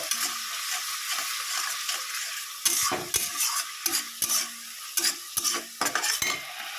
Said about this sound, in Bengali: এবার মশলাটাকে ভাজা করে নেব মানে কষিয়ে নেব